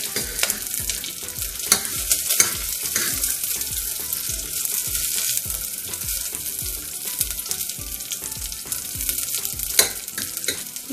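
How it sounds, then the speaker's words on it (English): Peanuts and cashew nuts frying in a pan for oat upma, a steady loud sizzle broken by repeated scraping stirs and clinks of the spoon, continuous with no talking. "and then you're gonna add peanuts and cashew nuts. Fry a little bit"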